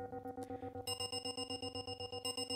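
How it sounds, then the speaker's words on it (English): An 8 Hz isochronic tone pulses rapidly and evenly, a layered synthetic tone throbbing at a fast steady rate, quiet at first and then brighter and fuller, with no voice over it. "So that's why I use this frequency here, 8 hertz, like say like the pulse for the isochronic tone."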